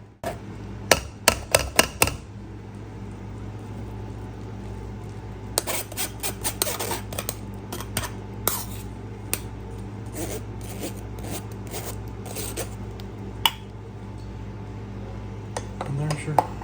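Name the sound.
pressing jalapeno pepper relish through a strainer with a spoon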